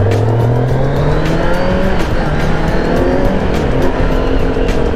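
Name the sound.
lowered motorcycles with loud exhaust pipes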